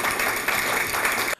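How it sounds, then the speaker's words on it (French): Applause from a crowd in a hall, steady dense clapping that holds for over a second at close range and then stops abruptly. "Ça s'applaudit."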